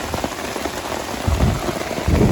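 Water patters and drips steadily onto a tent roof in a bamboo forest, close and continuous, with heavier splashes building toward the end.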